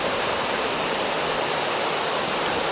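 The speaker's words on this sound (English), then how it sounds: "I don't know if that thundering water is coming across the microphone," Water thunders loudly and continuously over a spillway at Hinckley Lake, a dense unbroken roar recorded close by with no voices.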